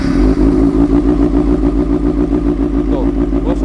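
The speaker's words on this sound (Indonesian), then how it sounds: "Sekarang kita cek sound idling dari ZX636 dengan menggunakan knalpot" A Kawasaki ZX636 30th Anniversary sport motorcycle with an Aero ProRace full-system exhaust idles close by with a deep, throbbing exhaust pulse that holds a steady rhythm throughout.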